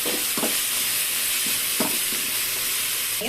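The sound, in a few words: vegetables frying in a pan after adding tomato and green chili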